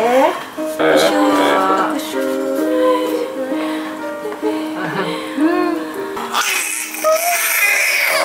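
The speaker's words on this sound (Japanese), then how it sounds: "男の子の赤ちゃんも可愛い声でしたね" Newborn baby boy vocalizing with soft cries and babbling sounds, close and fairly loud, with adults talking in the background.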